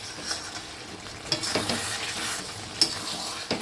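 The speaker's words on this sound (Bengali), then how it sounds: "এখন আমার কষানো চলছে।" Mutton being slowly sautéed for kosha in a pan, a continuous sizzle broken by scraping spatula strokes and the occasional clink against the metal, close by and with no speech.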